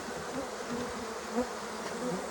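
A dense swarm of bees drones inside a trap-out cone box, a steady close buzzing hum with a few individual wingbeats rising briefly above it.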